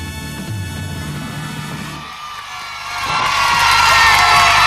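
A studio audience of children cheers and shouts for the Pink Windmill Show, the noise swelling from a moderate roar into a loud, sustained burst of excited voices with no clear talk.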